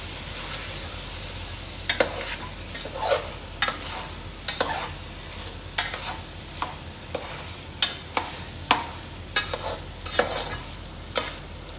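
A spatula scrapes through chicken and masala sizzling in a frying pan. The strokes come in steady, rhythmic scrapes over a constant loud sizzle.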